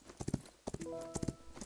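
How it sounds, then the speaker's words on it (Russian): Horse hooves clip-clopping in the Rival Stars Horse Club game as an Appaloosa starts a cross-country run, a quick rhythmic series of close, fairly loud beats with a brief tonal whinny-like sound in the middle. "Стартует лошадь везде одинаково."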